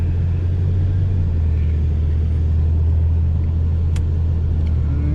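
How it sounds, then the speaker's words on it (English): Steady road rumble from inside a moving Oldsmobile Cutlass, a constant low engine and tire drone with no talking. "Car been riding excellent so far"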